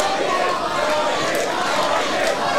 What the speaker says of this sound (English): See, the crowd's starting to get into it.